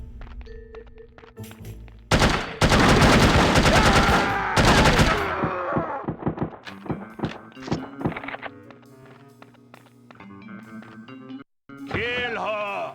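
The Hampton gun fires in No One Lives Forever, with loud, dense bursts of shots followed by sparser single reports and clatter while a voice speaks intermittently.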